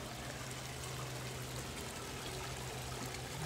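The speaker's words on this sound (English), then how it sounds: "you can see the aerator going over here to the left" Backyard pool aerator splashing and trickling water steadily, a continuous close wash of running water with no talk.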